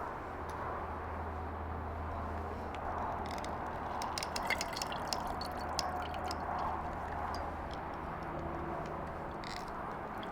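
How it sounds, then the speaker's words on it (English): Juice from a whole large lemon is squeezed by hand and drips into a drink, faint wet squishing and irregular small drips against a low background hum. "We are going to squeeze in, I just like to do the juice of a whole lemon."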